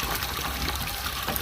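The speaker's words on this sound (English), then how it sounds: "Let's get that half a bucket of hot water going." Hot water gushes loudly and steadily into a bucket for homemade laundry detergent, a close, continuous rushing fill with no talk.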